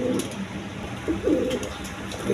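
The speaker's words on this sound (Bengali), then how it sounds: "দেখেন একবার দেখার মতো কবুতর" Rajgola pigeons kept for sale coo nearby, giving several low, rolling coos in quick succession against a faint, steady background hum.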